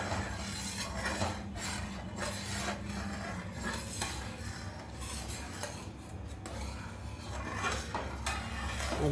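Coconut laddu mixture scraped and stirred in a pan, a continuous run of rasping strokes of a spoon against metal with occasional clinks, close and steady for several seconds.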